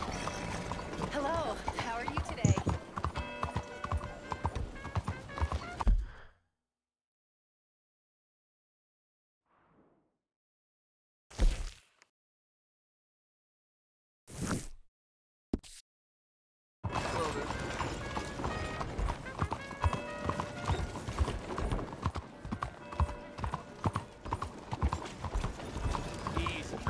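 Horse hooves clip-clop steadily through a town street in Red Dead Redemption 2, loud and close, with game voices and ambient noise mixed in, dropping out for a silent stretch with a few brief bursts before the hoofbeats resume.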